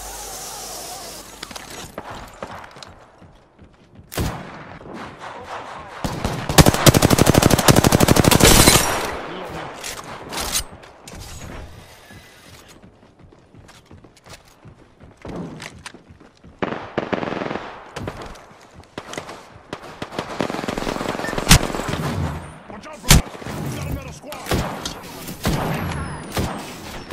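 Apex Legends gunfire crackles in dense automatic bursts, loudest in a sustained barrage midway, with scattered shots and clatter around it and faint speech now and then.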